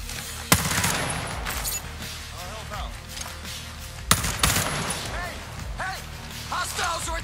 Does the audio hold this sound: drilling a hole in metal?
no